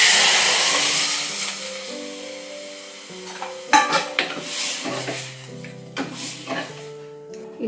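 Dal dropped into a hot tempering of cumin, mustard seeds and hing in an aluminium pan sizzles in a dense hiss, broken by sharp clatters of a spoon stirring against the metal, with no talk.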